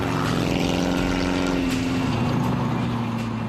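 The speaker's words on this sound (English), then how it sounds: "This little car makes a lot of noise." A 1960s Empi Imp Volkswagen buggy engine running loud and close, a rough, throbbing low drone that holds steady with a slight shift in pitch midway, with no talking.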